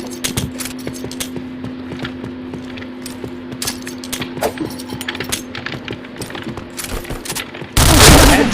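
Rapid gunfire from the video game Point Blank: dense bursts of sharp shots over a steady electronic hum, ending in a sudden loud wash of noise.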